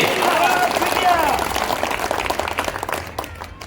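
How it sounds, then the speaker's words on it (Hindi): A crowd at a community rally in Guna begins clapping as a voice finishes speaking, and scattered claps build into fuller applause over the second half. "अरे तालियां तो अच्छे से बजा दो जाए एक बार जगन्नाथ सिंह जी के लिए।"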